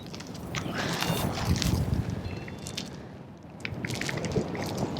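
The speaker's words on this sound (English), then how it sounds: "About 50-mile-an-hour winds." Strong wind of about 50 miles an hour buffets the microphone on a hilltop ridge used for hang gliding, a continuous rough roar that swells and dips.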